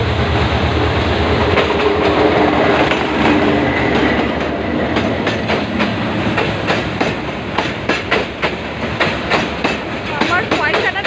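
A train rolls over a railway track where a coin has been placed, a loud close rumble with rhythmic clickety-clack of wheels over rail joints throughout, with a faint voice in the background.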